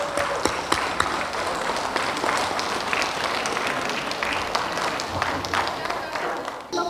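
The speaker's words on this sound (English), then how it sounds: "please stand up and let's give them another round of applause." An audience at a university endowed lectureship program gives a sustained round of applause, a dense, even patter of clapping across the room with some brief voices underneath.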